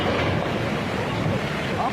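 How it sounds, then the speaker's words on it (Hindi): Flood waters surge and roar after a bridge collapse in Almora, Uttarakhand, as a dense, steady rush of water with wind buffeting the microphone, loud and unbroken throughout. "पुल के गिरने के बाद लहरें और तेजी से आगे बढ़ी"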